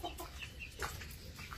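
Molting chickens in a farmyard give soft, scattered clucks, a few short calls close by over a quiet background.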